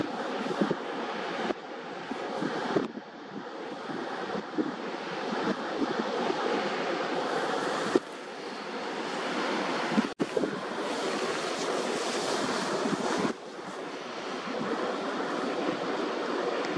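A tidal bore surges into a narrow coastal bottleneck. The roar of rushing water is continuous and broad, buffeted by gusts of wind noise on the microphone, with no voices.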